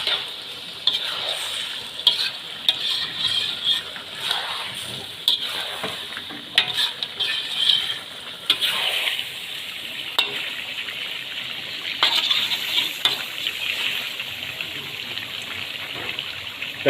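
Chicken karahi with ground red chili is stirred steadily in a sizzling pan, a bright continuous fry hiss with scraping spoon strokes throughout, close and fairly loud, no talking.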